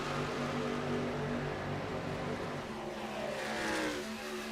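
Racing truck engines in a video game race at Michigan, several engines droning together at high revs with whining tones that shift pitch as the trucks pass, fairly faint and with no talk.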